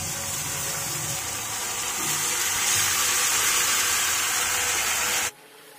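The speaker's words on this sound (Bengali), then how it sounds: "চিকেনটা বেশ ভালো করে এখন আমি কষে নিচ্ছি।" Marinated chicken being stir-fried in hot mustard oil with whole garam masala, cooked without water: a loud, continuous sizzling hiss close by that stops abruptly.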